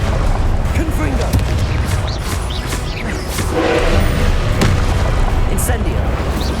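A Confringo blasting spell explodes in Hogwarts Legacy amid constant booming, crashing combat effects, loud and dense, with a bigger burst near the middle.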